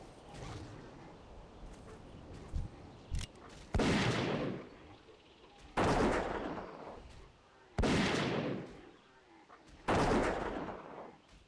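Gunfire from the game World of Warcraft Classic: The Burning Crusade: four loud, sustained bursts of shots come at steady intervals of about two seconds, with quieter clicks and game noise in between.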